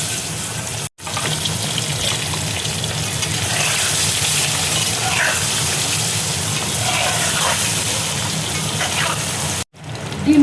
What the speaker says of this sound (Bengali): কড়াইয়ে দেখো তেল দিয়েছি, তেল দেখো গরম হয়ে গেছে। এবার আমি ডিমগুলো দিয়ে দিচ্ছি।